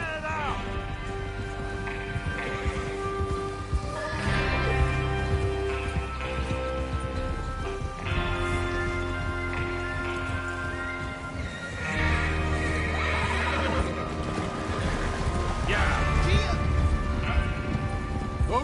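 Horses gallop and neigh in the Western video game Red Dead Redemption 2, with clip-clopping hooves and repeated whinnies up close amid busy game sounds and music.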